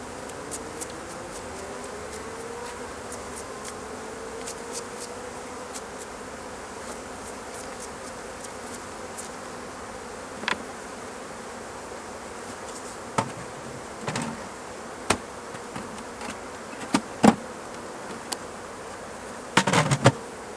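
Caucasian honeybees at a hive during a goldenrod honey harvest, a steady, dense buzzing drone close by, broken by scattered sharp knocks and clicks toward the end.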